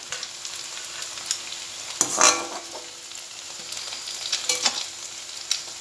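Cauliflower pieces for chilli cauliflower fry in hot oil in a pan, a continuous close sizzle broken by a few sharp spatula scrapes and clinks around the middle and toward the end.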